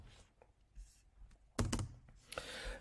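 Typing on a computer keyboard while an online damage claim form is filled in, a few soft scattered keystrokes, then a quick cluster of louder clicks and thunks, with faint speech in the background.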